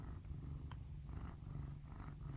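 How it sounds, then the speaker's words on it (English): A cat purring while perched up on a person's shoulder, a soft, steady low rumble running continuously and close, with faint background noise from a quiet room. "can you hear Jack purring?"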